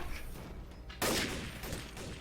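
A sudden loud burst of gunfire in the video game Trouble in Terrorist Town, a single sharp blast a second in followed by a decaying tail.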